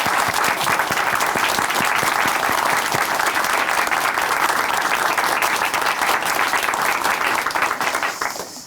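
Sustained applause from a church congregation at a televised testimony program, a dense, even wash of many hands clapping that continues for several seconds before tapering off at the end.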